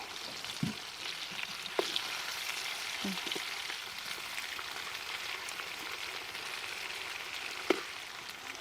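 Chicken pieces sizzle and fry steadily in a hot pan after being turned over, a continuous close crackle with a few soft clicks and bumps, no talking.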